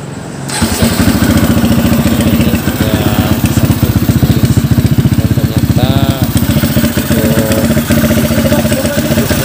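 A Kawasaki KLX motorcycle fitted with a PWK 28 carburetor is started and then runs loudly up close, its engine firing in a fast, steady chugging rhythm with slight revving, and no talk over it.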